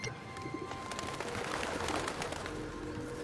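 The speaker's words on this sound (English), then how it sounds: "Now they're a mix of day owls and annoying peacock sounds." Bird calls in the video game Submerged: Hidden Depths, soft cooing owl-like hoots mixed with sharper cries, repeating over a steady ambient background with no talk.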